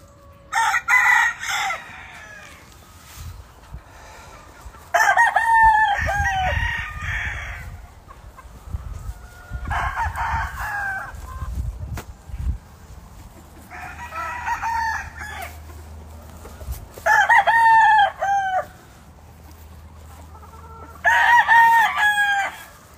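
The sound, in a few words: gamefowl rooster crowing on a farm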